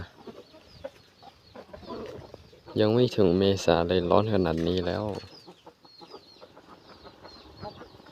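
Brahma chickens cluck softly in the background on a farm while someone talks over them, with a louder, more voiced stretch of sound in the middle.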